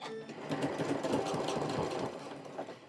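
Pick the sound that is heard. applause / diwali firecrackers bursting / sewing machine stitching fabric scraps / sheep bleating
sewing machine stitching fabric scraps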